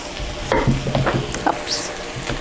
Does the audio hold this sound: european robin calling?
no